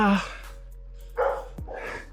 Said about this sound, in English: now there's two dogs barking at each other